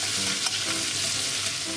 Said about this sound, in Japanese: バターがいい感じに溶けたらニンニクで、火は中火でいいので、まずニンニクの香りを少し立たせて